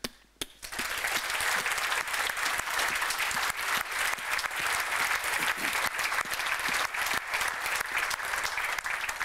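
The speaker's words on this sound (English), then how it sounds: "give a huge and very loud applause to all of our speakers" Sustained loud applause from a conference audience thanking the speakers at the International PHP Conference, dense clapping filling the room steadily from start to finish after a brief quiet opening.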